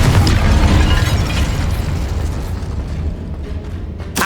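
Fire and blasting spell effects go off in Hogwarts Legacy as loud, dense booming explosions, strongest at the start and fading over a few seconds, then a sharp pop at the end.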